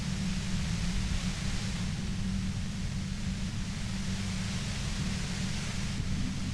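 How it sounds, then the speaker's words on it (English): Steady static white noise in the detective role-playing game Disco Elysium, a loud, unbroken hiss with a low droning band beneath it, holding unchanged throughout with no voices. "You hear through the white noise. It's especially bad suddenly."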